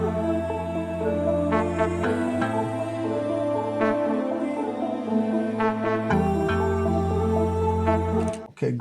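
Dense layered music bed of sustained harmonic tones and chords from an Afro house arrangement built in FL Studio, with an ethereal distant-voices pad sample running continuously throughout, shifting harmonies at around two and six seconds before a short dropout near the end.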